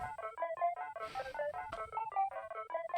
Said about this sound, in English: an arpeggiation also of an 8-bit sound that is stereo panned left and right.